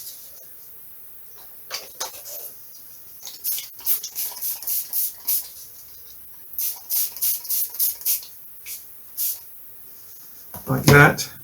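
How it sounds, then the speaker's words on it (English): A spray bottle mists water in clusters of short, hissy squirts onto the tissue covering of a stick-and-tissue model aircraft, separated by quiet pauses, with a louder burst of noise right at the end. "I'm just going to spray it with water"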